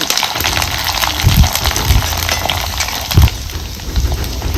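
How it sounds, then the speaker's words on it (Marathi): Crushed garlic and coconut are fried in hot oil in a kadhai, making a steady, close crackling sizzle with a few louder bubbling pops, no voices. "तेल चांगलं गरम झालंय आता ह्याच्यात आपण कुटून घेतलेला लसूण खोबरं टाकायचं चांगलं भाजायचं"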